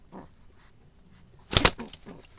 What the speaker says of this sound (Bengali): খুবই হিংস্র জালালি কবুতর এটি